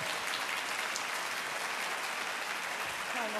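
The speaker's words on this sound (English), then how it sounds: "You can applaud that." An audience applauds at a Millennium Stage concert performance, with steady, continuous clapping that lasts the whole stretch at a moderate, slightly distant level.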